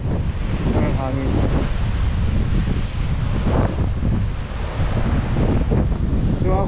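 Strong tropical storm wind on a Bermuda shoreline, where the sea has flooded over a former beach. The gusts batter the microphone in a loud, continuous roar, and waves surge beneath them.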